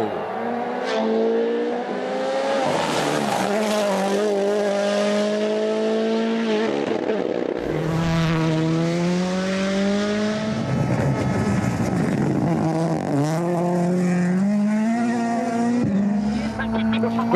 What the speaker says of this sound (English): the sounds of these cars just be sounding like an angry goat or like a sheep or whatever